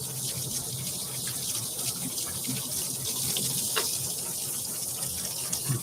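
Tap water runs steadily into a sink in a kitchen during handwashing, a constant hissing stream with faint splashes, heard alone at a moderate level.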